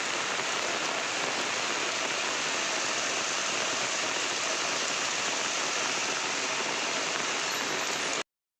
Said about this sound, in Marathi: पावसाची हजेरी.